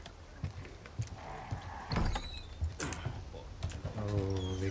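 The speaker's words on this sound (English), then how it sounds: "It's time to reload our weapon." A weapon is reloaded in the Resident Evil 4 remake: a quiet series of metallic clicks, clacks and sliding mechanical sounds, spaced irregularly, with a brief tonal hum near the end.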